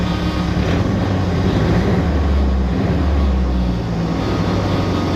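A Ford Festiva with a swapped-in Ecoboost engine idling and revving slowly with sluggish throttle response, a steady loud low drone that rises and falls gently.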